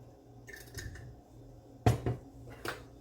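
A utensil clinks and scrapes against a pan while hot sauce is mixed into fried shrimp, a few close metallic taps and stirring scrapes with quiet gaps between.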